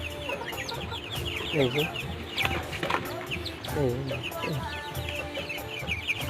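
A native chick with a leg problem clucks and cheeps near the microphone in repeated short calls, mixed with other fowl sounds and a brief spoken word.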